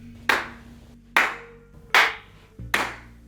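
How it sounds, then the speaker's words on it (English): Four sharp, strong hand claps spaced about a second apart, each loud and close with a short decaying tail, over a low steady background hum, used to sync audio at the start of a recording. "give a really strong clap at the start of your recording"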